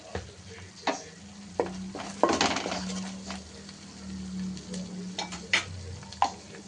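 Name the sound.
onion and ginger garlic paste frying with turmeric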